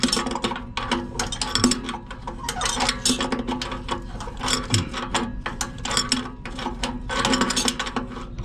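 A hand ratchet tightens a NOx sensor on a Volvo VNL760 truck, rapid clicking pawl strokes in quick bursts, close and continuous.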